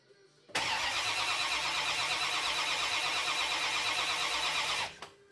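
A barn-find 1962 Chevrolet Impala SS convertible cranks without firing, a loud continuous whirring starter grind lasting about four seconds before cutting off, close and alone.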